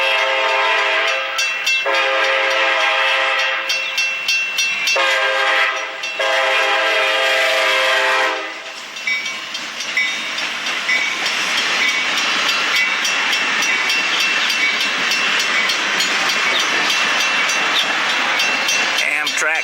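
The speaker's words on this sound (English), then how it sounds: "California train 711, Stockton, California." An Amtrak California train, number 711, at the former Santa Fe depot station in Stockton, California, sounds its horn in long, loud blasts, then rumbles and clatters steadily past, close by.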